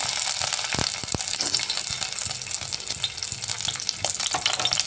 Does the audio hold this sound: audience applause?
no